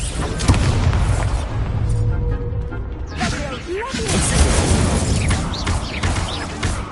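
Spell blasts and explosions go off amid continuous booming game effects and music in the Hogwarts Legacy video game, loud and dense throughout, with a brief dip before the rumbling bursts resume.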